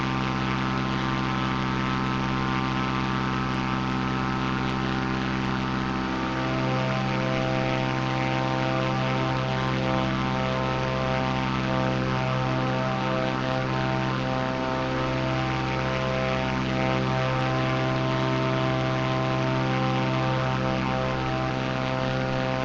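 Aircraft engine drone during flight in a video game, a steady loud propeller hum with layered tonal harmonics holding evenly throughout.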